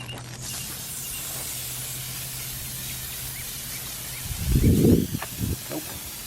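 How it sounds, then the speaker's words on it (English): Toilet bowl cleaner sprayed onto an oil stain on an outdoor driveway, a short close hissing burst of spray followed by a couple of quieter puffs against faint background noise. "We'll spray it one more time here."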